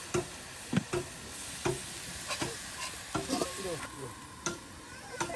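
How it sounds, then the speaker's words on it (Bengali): Chopped pumpkin is tossed and stirred with fried garlic, onion and green chili in a pan, with repeated distinct scraping clacks of the stirring utensil over a low sizzle, close and alone. "ভেজে নেওয়া রসুন, পেঁয়াজ, কাঁচামরিচের সাথে কিন্তু কুমড়োগুলো, কুচিগুলো একদম উলটপালট করে দেওয়া হলো।"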